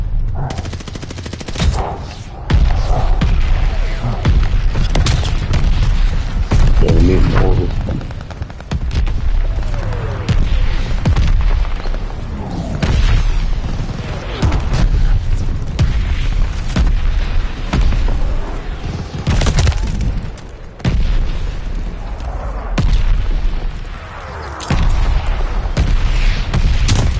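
Loud, chaotic bursts of gunfire and heavy booms from incoming mortar explosions fill a dense combat scene, with repeated sharp blasts and rumbling low impacts, and voices shouting intermittently underneath.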